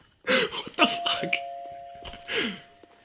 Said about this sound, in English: Who put the doorbell on the outhouse?